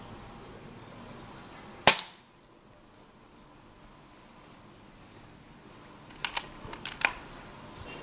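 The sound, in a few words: airgun shot hitting a rat at night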